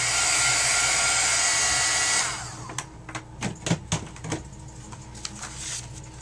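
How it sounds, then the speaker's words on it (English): A craft heat tool blows hot air over a handmade ribbon card, a steady loud whoosh for about two seconds, then it switches off, leaving quiet handling clicks and taps. "Use our heating tool."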